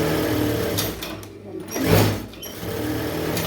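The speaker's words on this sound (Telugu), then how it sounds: "చూడండి ఇలా సదురుకుంటూ స్టిచ్ వేసుకోవాలి" A sewing machine runs a long stitch through star neck canvas, a steady close whirring that briefly slows and pauses midway before resuming at an even pace.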